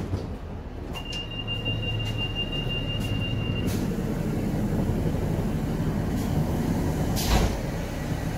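Arriva Northern Class 150 and Class 153 diesel multiple units running together at Wakefield station, giving a steady low rumble of engine and rail noise with a thin high squeal early on and a brief clank near the end.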